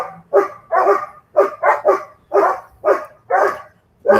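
Three German Shepherds bark nearby in loud, rapid volleys of about ten deep barks in quick succession, with no voices over them.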